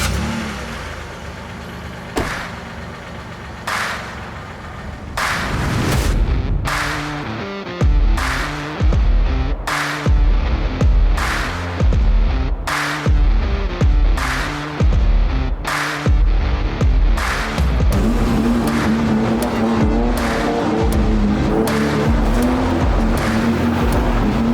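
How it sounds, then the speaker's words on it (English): A Nissan 350Z drives past with engine revving and tires squealing, loud and close. Bursts of acceleration are cut by sharp transients, then the engine holds a sustained drone. "Oh, and a Nissan 350Z."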